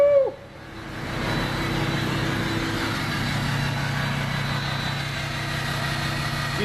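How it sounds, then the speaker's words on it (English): A DPF-deleted diesel truck idles with a loud, steady low chugging exhaust rumble that holds evenly throughout, after a brief higher whistle and a short dip at the start. "this exhaust is loud"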